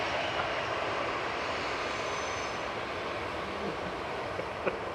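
Distant airliner engine roar from an Airbus A320 at Manchester Airport, a steady broadband rumble held at an even level throughout, no talk over it.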